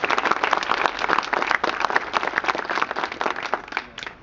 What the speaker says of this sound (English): Can I get an applause for that?